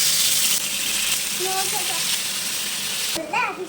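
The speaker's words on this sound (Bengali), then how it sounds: "তেল গরম হয়ে গিয়েছে এবার একে একে কাবাবগুলো দিয়ে দেবো" Beef seekh kebabs laid into hot oil on a tawa, a loud steady sizzle throughout, with a voice speaking over it and a brief higher-pitched voice near the end.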